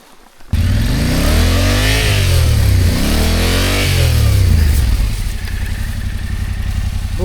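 An adventure motorcycle engine starts abruptly and revs hard while riding through a swamp, pitch climbing and dipping in repeated surges, loud and close, then settling into a rough, steadier drone.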